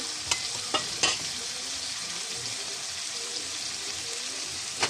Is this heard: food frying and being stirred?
yes